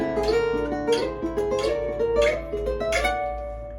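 Gypsy jazz guitar sweep picking arpeggios up a whole tone scale, with quick rippling runs and sharp attacks in a steady rhythm. Close and clear, about four phrases, no voices.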